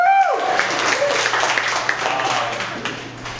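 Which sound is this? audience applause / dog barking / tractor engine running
audience applause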